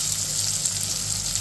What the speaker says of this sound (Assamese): এইবাৰ আলু গুটিকেইটা অকণমান ভাজি লওঁ, অলপ ফ্ৰাই হ'লে ভাল লাগেতো।